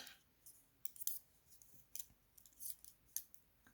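Scissors snip through knitting yarn in several quiet, crisp cuts spread across a few seconds, close by with no talk.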